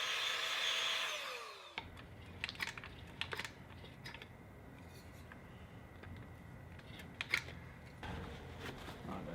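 Compressed air blowing dust out of a drilled hole in stucco: a short hissing blast that cuts off, followed by scattered clicks and handling noises.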